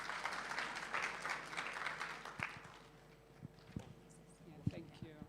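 Applause at a women's economic forum in Kenya for a speaker taking the stage, a burst of clapping from the room that fades out midway, leaving scattered thumps and footsteps at low level.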